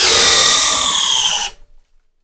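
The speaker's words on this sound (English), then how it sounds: "Let's see what we get with the DeWalt. Speed 3, here we go." A DeWalt hammer drill on speed 3 drives a 1 1/4-inch Speedbor spade bit into 4x4 lumber, a loud whining motor roar close up that binds and cuts off abruptly after about a second and a half.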